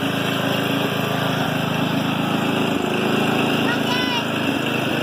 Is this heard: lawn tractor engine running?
yes